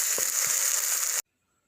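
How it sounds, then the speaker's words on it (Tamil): Tomatoes sauté in hot oil in a pan for pepper chicken, giving a loud steady sizzle with a couple of soft stirring bumps before cutting off abruptly into silence. "இதுவும் நல்லா வதங்கட்டும்."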